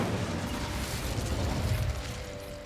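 Burst of spell fire from the Incendio charm in Hogwarts Legacy, a dense rumbling whoosh with low booming crackle that holds steady for over two seconds, then tapers slightly, with no talk.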